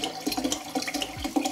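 High-proof Korn schnapps, 32 percent, poured to fill a glass: a close, steady liquid gurgle with small splashy bubbles running throughout, no speech.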